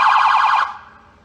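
Clayton Police Department patrol car siren in yelp mode, a rapid, loud warbling whoop that cycles quickly for about half a second and then cuts off, leaving a fading tail.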